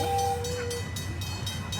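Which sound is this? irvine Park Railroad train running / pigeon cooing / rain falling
irvine Park Railroad train running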